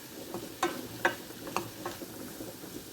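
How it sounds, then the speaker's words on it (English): Onions sizzle in a saucepan, a soft steady frying hiss punctuated by a few sharp crackles and spits about every half second, heard close with no talking. "So the onions have just started to start sizzling away."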